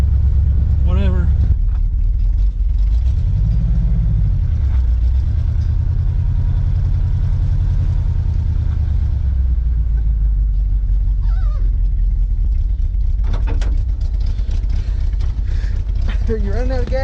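An old GMC truck, run again after sitting for 30 years, rumbles with a steady low engine drone, close and loud throughout, while people talk over it at several points.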